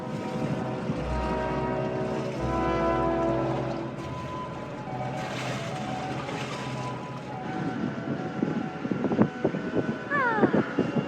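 Sailboat under way at sea leaving Cagliari, with steady wind rush and water wash against the hull, a low rumble early on and some creaks and knocks near the end.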